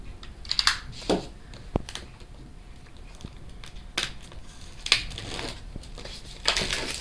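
An Apple HomePod Mini box is cut open in a quiet room: a series of close, sharp slicing and scraping bursts with crinkly paper and cardboard rustles, spread irregularly across several seconds.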